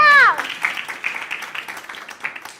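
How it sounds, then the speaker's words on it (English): Audience applause at a motivational interview event, a moderate burst of clapping that follows a voice at the start and carries on with uneven peaks. "Give her a round of applause."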